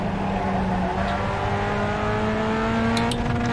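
Pontiac race car engine in the iRacing game at Oulton Park, a steady loud drone with rising pitch as it accelerates, continuous throughout with no talk.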